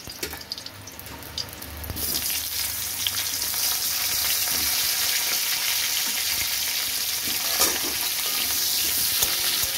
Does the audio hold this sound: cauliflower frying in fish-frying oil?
yes